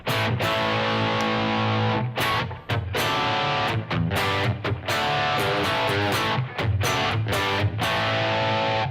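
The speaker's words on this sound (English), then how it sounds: "Now I'm going to switch from the clean channel on the amplifier to what's known as a crunch channel." An electric guitar played through an amplifier's crunch channel chugs out a bluesy rhythm with mild distortion, loud chords separated by short choked pauses, and no voices.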